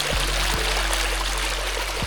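A small hillside stream spilling down as a little waterfall between rocky hills, a steady close broadband rush of flowing water with a few soft low thumps, no voices.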